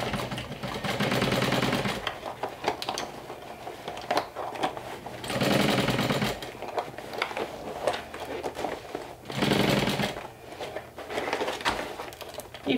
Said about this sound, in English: I'm going to sew, like I said, with a 1/2 inch seam allowance all around the opening